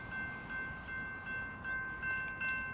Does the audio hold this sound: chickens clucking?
no